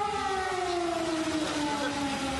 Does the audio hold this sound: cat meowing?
no